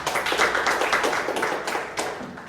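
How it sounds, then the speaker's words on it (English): A crowd claps in steady, dense applause, close and fairly loud, with a few sharper claps standing out near the end. "They deserve a big round of applause"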